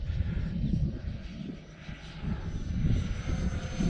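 An E-flite F-16 Thunderbird RC jet flying overhead, giving a steady rushing electric-ducted-fan whine that swells and fades slightly as it passes, heard from the ground with wind in the background.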